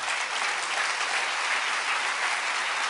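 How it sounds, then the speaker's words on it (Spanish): A church congregation breaks into steady, dense applause during a worship service just before communion, a continuous wash of clapping heard up close for the whole stretch. "Denle un aplauso al Rey bendito."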